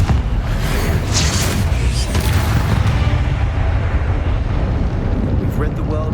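A Confringo blasting curse explodes in the Hogwarts Legacy video game, giving a loud, sustained, rumbling blast that roars steadily without pause for several seconds.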